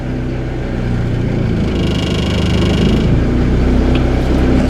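A 1986 Ford Escort 2.0L diesel wagon reversing, with a steady close engine drone that swells briefly in the middle, and no talking.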